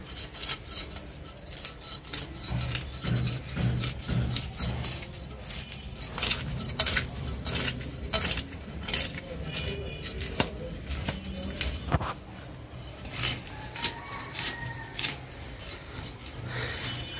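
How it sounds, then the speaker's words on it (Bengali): A rohu fish is cut in a village kitchen with repeated sharp clicks, chops and metallic scrapes in an uneven rhythm, close and moderately loud, with scattered background noise and no clear speech. "রুই মাছ কাটাকুটি"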